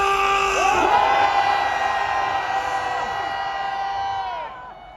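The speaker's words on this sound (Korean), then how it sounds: "함성 3초 발사!" A large crowd at an outdoor political rally outside Dongdaegu Station roars and cheers for a few seconds on cue, a dense sustained mass of shouting voices that fades toward the end.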